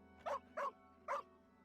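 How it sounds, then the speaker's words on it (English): A dog in the video game Genshin Impact barks three times in quick succession, short and clear yips over a quiet background hum. "The dog, what the dog doing?"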